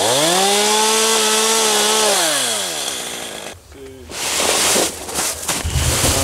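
A chainsaw cuts a log outdoors while its engine drones loudly and steadily. The pitch sags as the chain bites into the wood, then the engine drops to idle and revs again.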